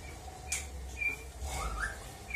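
Faint, sparse whistled notes of a white-rumped shama, a few rising and steady tones, over a low background hum.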